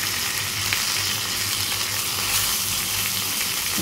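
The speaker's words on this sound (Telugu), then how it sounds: "ఫ్రై అవుతుంది." Garlic for a moringa leaf chutney sizzles loudly and steadily in hot oil, a dense close frying hiss with no break and no voices.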